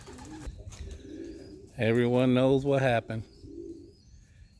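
Young pigeons coo softly at a loft, with low, faint murmurs before and after someone speaks loudly nearby.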